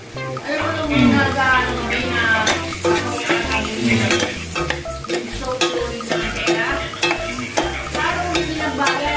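Rice porridge is stirred in a pot, a continuous close churning and scraping with a bubbling sizzle underneath and repeated utensil knocks against the pot, fairly loud throughout.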